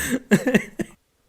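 Several harsh, close coughs in a quick irregular burst of about four or five, loud and dry, then sudden silence.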